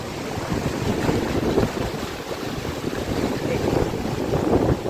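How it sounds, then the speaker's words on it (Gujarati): Steady rushing ocean waves on the shore at Somnath, Gujarat, mixed with strong wind buffeting the microphone, a continuous roar with no clear breaks. "ઓ હોય મોજા આવે"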